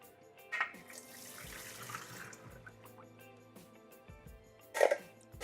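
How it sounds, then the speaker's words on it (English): Tap water runs quietly into a kitchen sink while cranberries are drained, a soft steady flow beneath background music, with a couple of brief louder splashes near the end. "Drain your cranberries in water"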